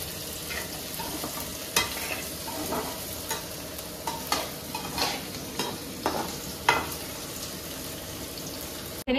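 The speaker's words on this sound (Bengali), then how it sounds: "এই হচ্ছে ভেন্ডি ভাজা" Okra (bhindi) frying in a pan: a steady sizzle fills the background while a spatula stirs and scrapes with intermittent clacks, close and moderately loud, with no talking.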